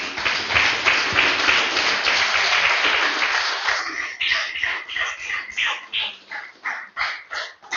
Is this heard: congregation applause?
yes